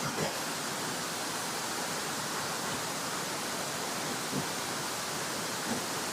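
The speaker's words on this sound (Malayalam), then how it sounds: "ഇതാണ് നമ്മുടെ വെള്ളച്ചാട്ടം കേട്ടോ." Achankallu waterfall pours clear water in a steady, dense roar that fills the clip evenly from start to finish, loud and continuous with no talk over it.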